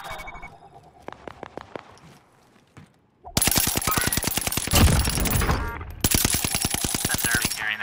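PPSh submachine gun fired from the hip in a video game, starting with sparse, faint rapid shots, then after a short gap breaking into loud, sustained full-auto bursts with dense crackling reports, a brief pause, then more fire.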